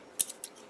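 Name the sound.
small scissors cutting out model decals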